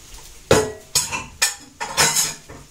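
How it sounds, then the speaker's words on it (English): A spoon stirring homemade onion soup in a pot just after beef stock is poured in, giving four or five distinct scraping clinks against the metal at a steady rhythm, close and fairly loud with no talking. "Give it a quick stir."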